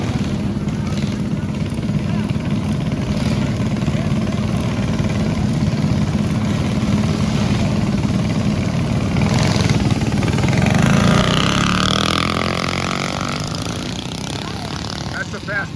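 Mini bike engine buzzing steadily and loudly throughout at a small-town race in Symco, Wisconsin, a sustained droning that swells near the end, with crowd chatter and talk mixed underneath.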